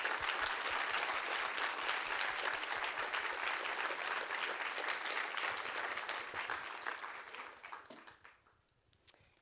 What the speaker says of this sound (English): If you could please give a round of applause to those 16.